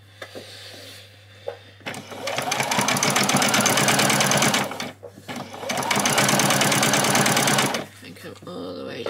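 A sewing machine stitches a seam on a doll's dress in two long, fast rattling bursts separated by a short pause, close and loud, with a few quiet handling sounds between runs.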